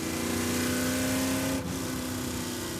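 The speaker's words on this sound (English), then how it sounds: "that car's gonna violate the noise regulations here at Laguna Seca" A 1995 Chevy Caprice 9C1 engine running at Laguna Seca raceway, a loud, steady droning hum that holds an even pitch, dips briefly midway, then carries on close by with no talk.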